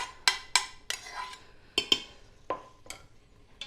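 Browned onion and sausage stirred around in a soup pot with potatoes and milk gravy: a series of sharp metallic scrapes and clanks, spaced irregularly and close by.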